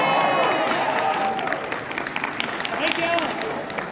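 Comic con convention audience in a hall, applause and scattered cheering rising from a large crowd, continuous and fairly loud, with talk mixed into the noise.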